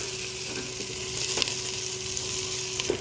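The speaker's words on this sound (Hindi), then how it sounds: "अब हम इसी ऑयल में ऐड करेंगे प्याज" Onions frying in oil: steady sizzle in a pan, continuous and close, with a few soft clinks and stirring scrapes, no voices.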